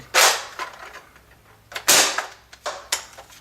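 A Nerf Longstrike blaster fires stock Streamline darts indoors: a few sharp, airy pops close by, each with a short hiss, separated by quieter mechanical clicks of priming.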